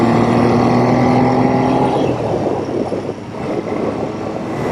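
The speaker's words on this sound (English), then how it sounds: "The sound this bike makes is amazing." A Triumph Trident T160 motorcycle engine drones at steady revs while riding, then the tone drops away into rushing wind and road noise, loud and close, with no talk.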